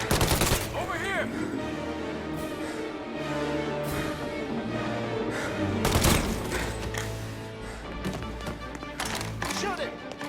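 Gunfire rings out in the video game Mafia: Definitive Edition, with dense bursts of shots and a louder volley near the middle, heard over game music and shouting voices.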